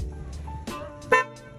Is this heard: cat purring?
no